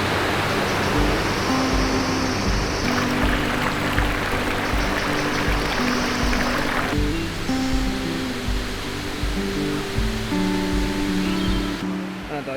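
Chorrillito waterfall in Panama pours in a constant, dense roaring rush of falling water, loud and close from start to finish, with a faint low tone layered underneath.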